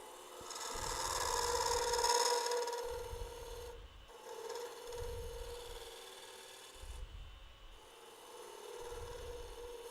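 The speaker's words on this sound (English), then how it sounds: "We're going to do that with sanding." Sandpaper rubbing on a wooden ring box to loosen its fit, steady rasping strokes in a regular back-and-forth rhythm, about five passes, close and fairly quiet, with no talking.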